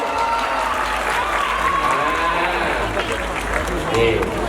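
Studio audience at a televised Thai campus star contest claps in a steady, dense roar of applause throughout, with a host's voice speaking over it.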